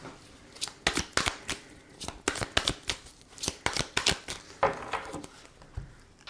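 Tarot cards shuffled by hand for a reading, a steady run of quick riffling bursts and soft slaps at close range with no talk over them.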